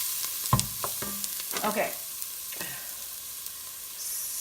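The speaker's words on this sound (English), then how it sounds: "Stirring occasionally until the vegetables are softened." Vegetables for a quinoa chicken soup sautéing in a pot with poultry seasoning, a soft steady sizzle broken by a few scraping stirs of a spoon, close by, with a brief spoken word early on.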